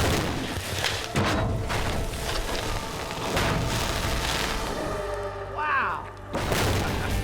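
A flattened gas tank still holding fuel ignites with a heavy, roaring blast and rumbling debris when a 3,000-pound weight is dropped on it, loud and sustained, followed by an excited shout from a person nearby.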